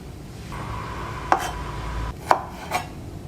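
A knife slices through kikiam on a cutting board, three sharp chopping strikes spaced about a second apart, close and distinct over a low kitchen background hum.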